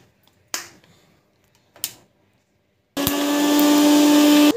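A mixer grinder grinds soaked ingredients for homemade shampoo with a steady, loud whirring hum. It starts after two sharp clicks and runs without stopping to the end.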